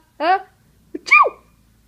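A baby sneezes twice in quick succession, close and fairly loud, each a short sharp burst with a pause between them.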